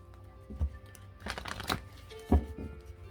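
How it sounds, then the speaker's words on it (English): Close, quiet riffling and slapping of oracle cards being shuffled by hand, in a few uneven bursts with soft crinkles between. "Let me shuffle this a couple times here."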